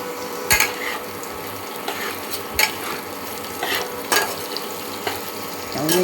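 A spoon stirs turmeric into a vegetarian banana-stem pulao in a pan, giving scraping strokes and a few distinct metallic knocks at irregular intervals over a soft sizzle, with no speech.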